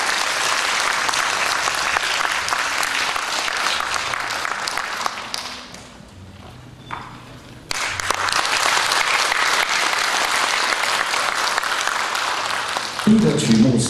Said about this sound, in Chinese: 来，掌声欢迎我们的林顺堂老师